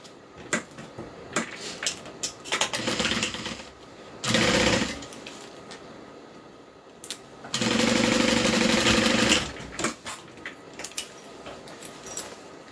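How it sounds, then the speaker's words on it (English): A sewing machine stitches open the side seams of a Kiana bag in two loud, steady bursts of rapid whirring, a short one and then a longer run, with quieter handling clicks between them. "now I'm just going to sew open my side seams so that they lay nice and flat"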